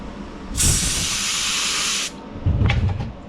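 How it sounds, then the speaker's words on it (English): A burst of compressed air blown through a push lawn mower part hisses loudly for about a second and a half, then cuts off, followed by some clunking handling noise. "And then blow air through it."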